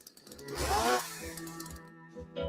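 Harsh, rasping snoring from a husband in bed, compared to a warthog with a chainsaw: one long grinding snore swelling and fading, followed by shorter ragged snorts.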